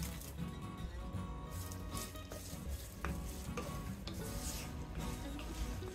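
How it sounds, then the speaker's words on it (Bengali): Sliced onions and whole spices (bay leaves, cinnamon, cardamom, mace) fry in oil over medium heat, giving a soft steady crackling sizzle with light scraping stirs and occasional clinks, quiet and without talk. "পেঁয়াজগুলোকে হালকা বাদামি করে আমি ভেজে নেব, লাল করব না"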